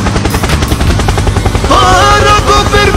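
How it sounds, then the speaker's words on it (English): A helicopter in GTA V, its rotor thudding loudly and rhythmically, joined by a bright whining tone partway through. "Helicopter, helicopter"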